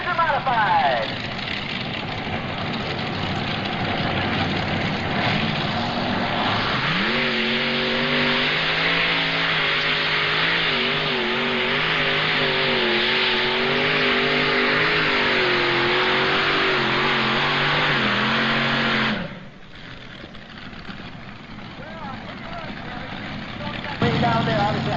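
A modified pulling tractor makes a sustained loud engine roar with a steady droning pitch during an NTPA tractor pull, dropping off sharply near the end.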